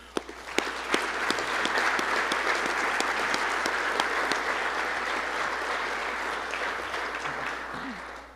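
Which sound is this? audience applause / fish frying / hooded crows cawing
audience applause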